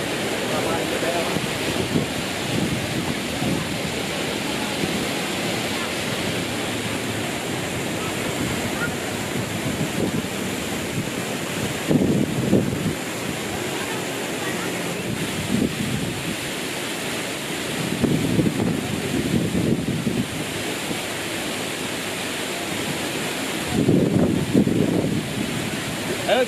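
The Lembah Anai waterfall in West Sumatra roars as a steady, loud broadband rush of falling water, heard close and continuous with occasional gusts of wind buffeting the microphone.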